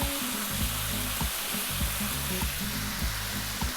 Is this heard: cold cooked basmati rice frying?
yes